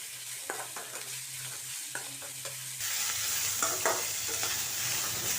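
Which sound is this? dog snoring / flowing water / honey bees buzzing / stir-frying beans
stir-frying beans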